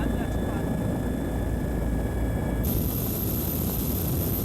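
A medical transport helicopter arriving overhead with a donor heart for a transplant patient, a loud steady rotor and engine roar throughout, with a high whine rising sharply partway through as it nears.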